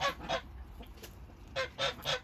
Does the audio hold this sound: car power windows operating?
no